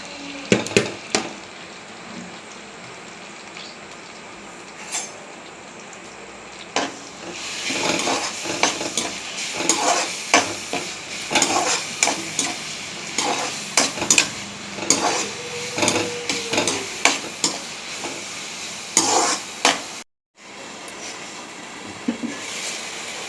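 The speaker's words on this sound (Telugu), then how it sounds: "ఇప్పుడు ఉల్లిపాయ, టమాటా, పచ్చిమిర్చి వేసేసుకుంటున్నాను." Onion, tomato and green chilies fry in a pan for a fish curry. A loud, continuous sizzle runs under repeated spatula scrapes and clatters, then cuts out briefly near the end before resuming.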